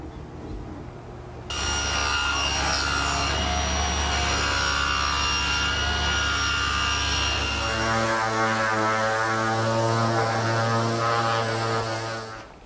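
Table saw ripping hardwood for a picture frame: a loud, steady machine whine runs continuously from about 1.5 seconds, with a shift in tone partway through as the cut progresses, and no talking.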